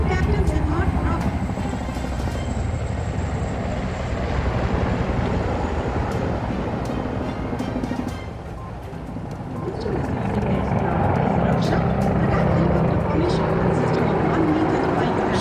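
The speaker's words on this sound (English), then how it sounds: "1 मी-35 और 4 Apache helicopters wig formation में उड़ान भरते हुए।" Mi-35 and Apache attack helicopters flying overhead in formation at a Republic Day parade, a loud, steady rotor and engine roar that dips briefly midway, with a commentator speaking over it throughout.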